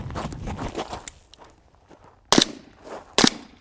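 Two sharp, loud gunshots crack about a second apart during a firearms shooting drill, each followed by a brief ring, after a stretch of quieter shuffling and handling noise.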